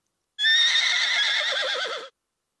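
A horse whinnies once, loud and close, a bright shrill neigh lasting under two seconds that ends in a wavering, quavering tail, with no talk over it.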